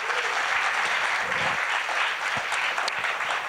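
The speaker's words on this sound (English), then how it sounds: "a very warm round of applause" A conference audience applauds warmly, with dense, steady clapping that keeps going throughout.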